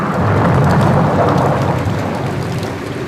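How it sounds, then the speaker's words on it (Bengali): A thunderstorm in a Bengali horror cartoon, with heavy rain pouring steadily and a low rumble of thunder, loud and close. "বৈশাখ মাস আসতে না আসতেই ঝড় বৃষ্টি শুরু হয়ে গেল"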